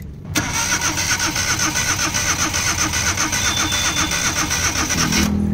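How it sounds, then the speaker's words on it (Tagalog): A Suzuki K6A turbo engine with a compression gauge fitted cranks over on the starter in a loud, rhythmic, pulsing churn that begins abruptly and holds steady for about five seconds. "Engine crank."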